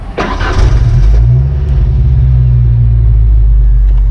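A mini truck's engine drones loud and close as the gears are shifted, a steady low rumble that swells briefly near the start, with no voices over it.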